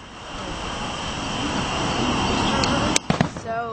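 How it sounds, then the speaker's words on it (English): Fireworks rumble and build for a few seconds, then sharp, close bangs and crackles burst out near the end. "Fireworks are starting."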